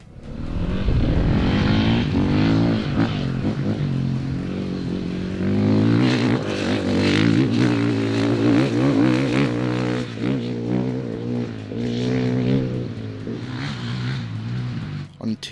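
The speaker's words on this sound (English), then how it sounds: "I was able to ride both the FE 450 and FE 501 back to back." Husqvarna FE 450 and FE 501 enduro motorcycles revving and riding, a steady loud engine drone with rising and falling throttle, under continuous talk.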